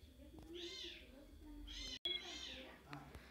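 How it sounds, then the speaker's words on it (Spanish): A cat meows three times in drawn-out, wailing cries, fairly close, with a person talking and game sounds underneath. "con este pinche gato está llorando"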